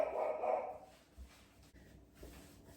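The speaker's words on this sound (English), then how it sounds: "That's what he must have been barking at." A dog barks indoors in a short burst at the start, fairly loud and near, then quieter rustling and faint low thumps follow with no talking.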